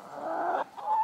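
A Calico Princess chicken hen clucks in a short burst, close and clear, with a brief pause and a second cluck.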